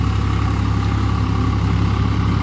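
A Swaraj 744 XT tractor from 2022 runs its engine with a rotavator, giving a loud, steady low-pitched diesel drone that stays even throughout with no speech.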